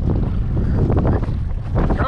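Wind buffets the microphone on a lake from a small paddled fishing boat, a loud steady rumble with brief water splashes and a faint voice near the end.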